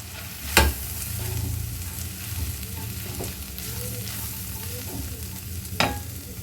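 Fennel powder being stirred into bitter gourd curry frying in a pan, with scraping spoon strokes, two sharper clanks, and a steady soft sizzle underneath.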